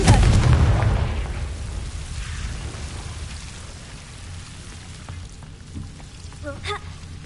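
A Confringo blasting spell from a Harry Potter video game goes off in a loud, booming burst that fades into a rumbling, rain-like crackle, followed by a few faint chiming tones.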